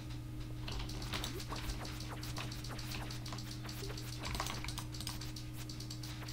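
A computer keyboard is struck hard in fast, uneven bursts of clacking keys over a low steady hum, fairly faint and with no one talking.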